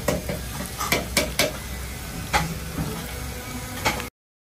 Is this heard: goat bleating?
no